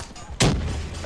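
A single heavy gunshot-like blast destroying a sentry gun in Black Ops 3, sharp and loud, trailing into a lingering rumble.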